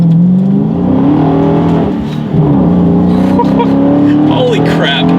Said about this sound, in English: let me do a quick little acceleration test